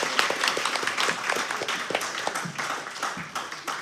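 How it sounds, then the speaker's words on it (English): A small audience claps in welcome as a guest comes up to a stage, sparse and individually audible hand claps in an irregular patter, fairly close and moderately loud. "Come on, let's give him a round of applause."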